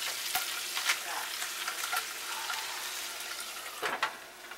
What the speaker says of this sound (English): The sausage is starting to cook away.